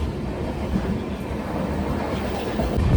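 Amrit Bharat Express train, running from Malda toward SMVT Bengaluru, rumbles along the rails in a steady, continuous roar heard from on board, swelling slightly louder toward the end, with no talk.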